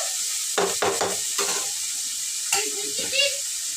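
Onions and green chillies are stirred while frying in a pan, giving a steady sizzle with a few scraping strokes of the spoon, close and fairly loud.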